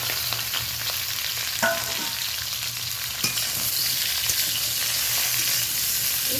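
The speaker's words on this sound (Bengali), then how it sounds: "একটু লবণ হলুদ মাখানো পটলগুলোকে ভেজে নেব" Small pointed gourds coated in salt and turmeric frying in hot oil in a wok, a loud continuous close sizzle with a few sharp spatula clicks and no voices.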